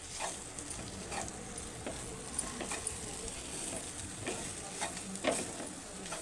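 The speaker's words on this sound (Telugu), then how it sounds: "ఇందులోనే మనం వేయించి పెట్టుకున్న కాకరకాయ వేసుకుందాం వేసుకొని మసాలా మొత్తము దాకా ఇలా కలుపుకోవాలి" Fried bitter gourd being stirred into a masala curry in a pan gives a soft, low sizzle with scattered scrapes and taps of a spoon, fairly quiet and steady throughout.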